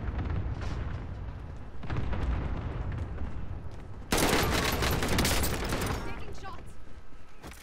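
Gunfire in Call of Duty: Modern Warfare, a steady barrage of shots with booming impacts that grows louder and denser halfway through, while a person speaks over the din.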